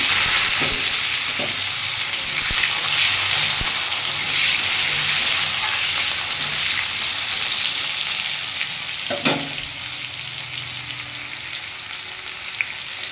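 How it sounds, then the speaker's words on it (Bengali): Potatoes and tomatoes fry in hot oil for a vegetarian cabbage curry, a loud, even sizzle with a few brief utensil knocks, easing slightly toward the end. "এর মধ্যে আমি আলু আর টমেটোটা দিয়ে দেবো ভাজার জন্য।"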